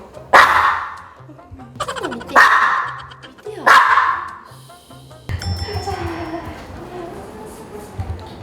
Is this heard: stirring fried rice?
no